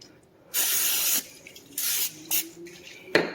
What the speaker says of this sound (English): My cooking spray, spray the basket.